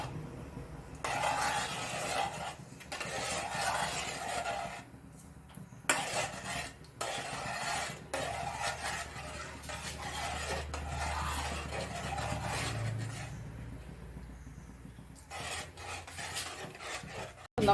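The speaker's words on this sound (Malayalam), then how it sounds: "അപ്പോൾ അത് വേവുന്നിടം വരെ നന്നായിട്ട് ഇളക്കി കൊടുക്കുക." Steady scraping and stirring of a cornflour sauce for garlic chicken in a pan, a continuous rubbing and scraping rhythm that runs close and clear with brief pauses, and no talking.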